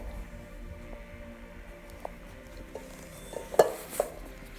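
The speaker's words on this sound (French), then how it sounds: "je mélange un peu, je rajoute la deuxième quantité et je mélange encore" A utensil folds macaron batter with egg whites in a bowl, giving soft scraping strokes and a couple of sharper clinks against the bowl near the end, close and quiet.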